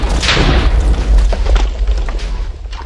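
A loud, deep boom with heavy low rumble rolls on for about three seconds, like a game blast, with a few smaller thuds trailing off.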